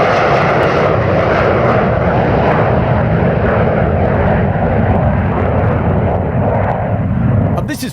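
An aircraft arrives at Bruntingthorpe in very old, grainy footage. Its engines give a loud, continuous, rumbling roar that fills the whole stretch, close and unbroken, with no talking over it.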